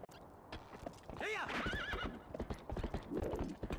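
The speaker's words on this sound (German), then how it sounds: "Pferd, nicht Fisch." Quick clip-clopping hooves with a loud, high horse whinny rising over them, then more hoofbeats, all with a synthetic game-like quality, from The Legend of Zelda: Twilight Princess.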